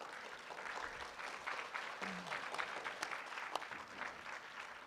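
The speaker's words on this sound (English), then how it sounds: "Okay, I love the applause." Faint, distant applause from an audience at a suicide prevention symposium, a steady wash of many hands clapping that carries on evenly for several seconds.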